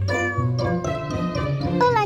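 Cartoon cat meowing in a short burst of close, bright cries, with other sounds blending in around them.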